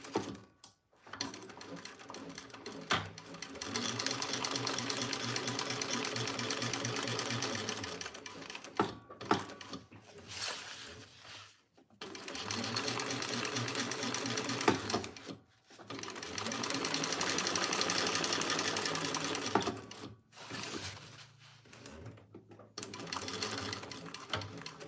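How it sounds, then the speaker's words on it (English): A sewing machine stitches around three sides of a small project in three long steady runs of fast, even whirring, near and fairly loud, broken by short pauses where the fabric is turned. "And we'll just sew around 3 sides."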